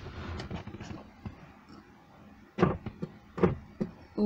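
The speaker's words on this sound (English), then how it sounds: "It makes a little clonking sound up and clonking sound down." A faulty rear power window on an Alfa Romeo 156 clonks as it travels, giving a few soft knocks and then louder irregular thumps near the end, all close and fairly quiet.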